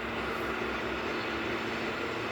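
A steady, broad rumble of a train rolling by in the distance, continuous and even throughout.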